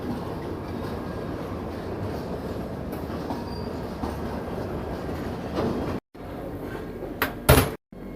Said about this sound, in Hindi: और हमारी ट्रेन से चल रही है मेरठ वाले ट्रैक पे।